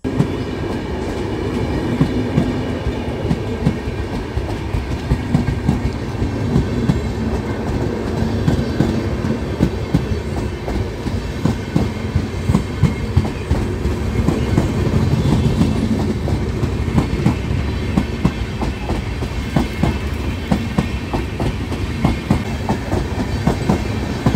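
Humsafar Express passenger train with mostly AC coaches rolling past close by, a loud continuous rumble with steady clickety-clack of wheels over rail joints throughout.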